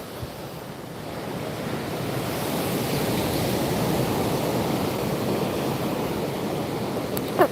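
Ocean surf at a beach where surfers go in rolls as a continuous broad wash of breaking waves, mixed with wind buffeting the microphone.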